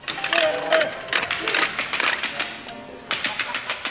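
Stage prop for a theatre production imitating an airplane with rapid mechanical clicking, a close rattling clatter in uneven bursts, with voices in the background.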